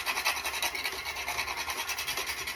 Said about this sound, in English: Because nothing says the holidays like some fresh grated nutmeg.